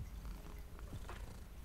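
A cat purring softly and steadily indoors, a low continuous rumble heard alone with no talking.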